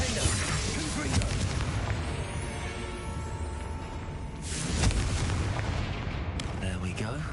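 Confringo blasting-spell explosions in the Hogwarts Legacy video game: booming, crackling blasts and bursts layered over one another, with a sharp surge near the middle and another near the end, moderately loud throughout.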